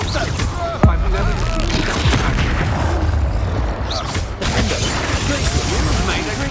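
Incendio and Expulso spell blasts from the video game Hogwarts Legacy crack and boom in quick succession amid loud, dense combat noise, with a sharp hit near the start and a steady barrage of magical bursts throughout.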